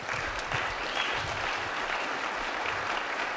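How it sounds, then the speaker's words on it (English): Audience applause at a 1 Million Cups startup presentation event in Kansas City, a steady, dense wash of clapping from a crowd that holds evenly throughout. "let's give them a round of applause real quick"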